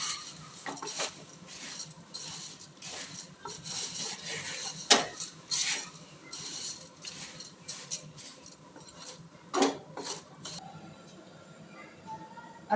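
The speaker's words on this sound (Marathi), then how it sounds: "आता चिवडा परतते मी. चांगले कुरकुरीत होईपर्यंत परतून घ्यायचं." Puffed rice chivda is stirred and roasted in a pan, the spatula scraping and rustling against the metal in irregular strokes with a few louder knocks, close and fairly quiet.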